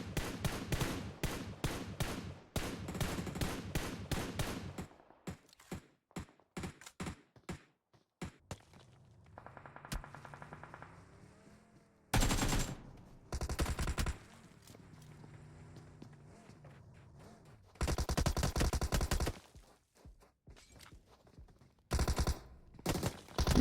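Gunfire rattles through a video game esports scrimmage: rapid bursts of shots and sharp single cracks, loud and close, broken by quieter stretches of footsteps and movement.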